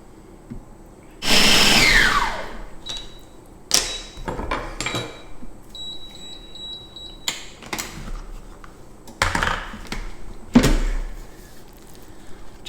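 Kitchen blender whizzing dumpling filling until super fine, in loud bursts, the first long roaring run followed by several shorter pulses with pauses between.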